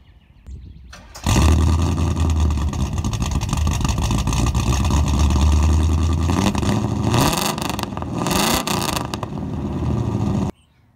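A 1975 Pontiac LeMans V8 with tubular headers and stainless steel true dual exhaust through glass-pack tubular mufflers starts up and runs loud and close, a steady throaty rumble with some revving before it cuts off.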